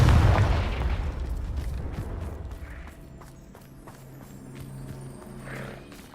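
A Confringo blasting spell in Hogwarts Legacy detonates with a loud, close boom that decays over a couple of seconds into rumbling debris and scattered clattering thuds.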